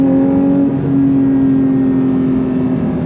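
A 2023 Porsche 911 GT3 Touring with a six-speed manual gearbox pulls hard on the throttle, its engine giving a loud, sustained rising howl heard close from the cabin, with no talk.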